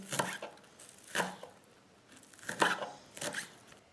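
A knife finely slices a fresh spring onion on a board, four crisp cuts spaced about a second apart, close and moderately loud, with no talk.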